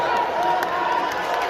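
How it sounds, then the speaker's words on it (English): Spectators at a football game clap and cheer in a steady, dense wash of crowd noise that fills the whole moment without clear breaks. "People are clapping, bro."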